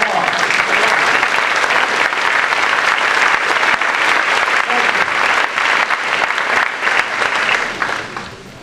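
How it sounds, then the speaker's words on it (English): Loud, dense applause from a school general assembly audience, standing as they clap, sustained for several seconds before easing slightly at the end. "Give a round of applause."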